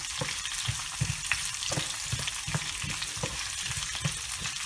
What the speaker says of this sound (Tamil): இஞ்சி, பூண்டு, தேங்காய் எல்லாத்தையும் வதக்க ஆரம்பிங்க.